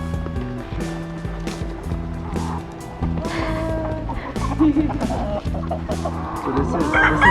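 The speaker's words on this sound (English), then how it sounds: "So these chickens come from different farms from around Mexico and the world." Several chickens cluck and chatter continuously at close range, with a rooster-like call mixed into a busy barnyard din.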